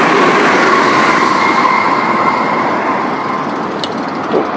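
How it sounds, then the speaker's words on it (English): A JR train rumbles past nearby with steady broadband roar, a faint high squeal near the end, loud throughout. "That's a JR train."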